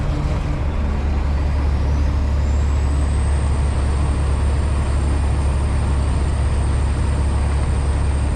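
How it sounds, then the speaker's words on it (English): A long-hood classic truck rattles from inside the cab while driving, a loud, constant engine drone and road roar with buzzing vibration and a rising whine. "Oh yeah, everything's rattling today."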